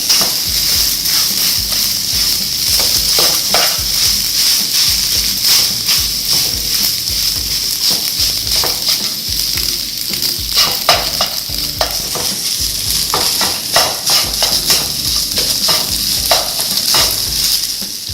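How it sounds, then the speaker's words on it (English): Rice and egg stir-fried in a hot pan for combination fried rice: a loud continuous sizzle with constant rhythmic scraping and pressing of the spatula, close and busy throughout. "As you put in the rice, kind of press it down, mixing with the egg."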